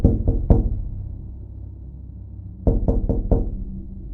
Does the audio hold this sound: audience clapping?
no